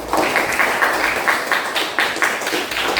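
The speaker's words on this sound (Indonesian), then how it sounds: "Tepuk tangan untuk Jos" A classroom of students claps for a classmate, a dense, steady burst of close hand clapping that carries on throughout.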